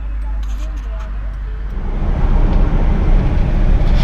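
Cruiser cars rolling along Woodward Avenue at night, a steady low engine rumble and road noise that swells louder partway through as vehicles pass close, with a faint voice early on.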